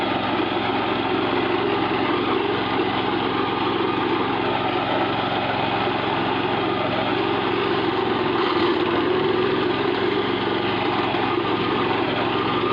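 A tractor drives a rotary mower through bushes in first gear at maximum revs, giving a loud, steady engine drone with a broad mechanical roar that holds without a break, and no talking over it.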